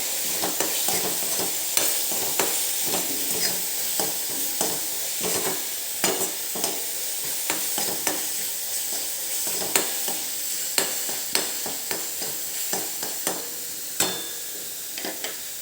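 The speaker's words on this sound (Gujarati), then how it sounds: "હવે આને પણ આપણે મિક્સ કરી લઈશું" A spoon scrapes and stirs red chili powder and coriander-cumin powder in a hot pan for Nadiad-style dal puri, with a steady sizzle underneath and regular close scraping strokes throughout.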